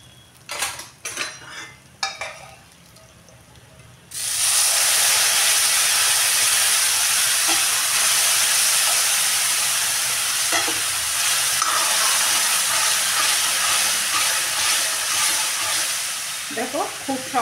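Lentils (dal) hit a hot pan with gram masala and then are stirred, a loud steady sizzle and frying hiss starting abruptly and lasting, with spoon scrapes and clinks against the pan throughout; a few clatters come before.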